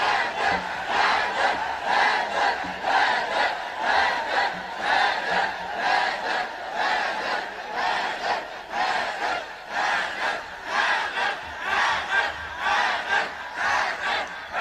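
A mosque crowd chants slogans for Haidar (Hazrat Ali) during a 21 Ramzan gathering, loud rhythmic massed voices repeating steadily in pulses for the whole stretch.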